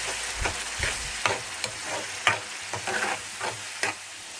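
Tomato paste being stirred into a prawn and broad bean curry in a pan, irregular scraping strokes with soft sizzling underneath, heard close and alone.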